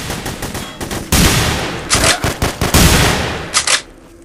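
Shotgun fire in the video game The Hidden (Hidden: Source): loud, close blasts come in several separate bursts with brief gaps between them, and no voices are heard.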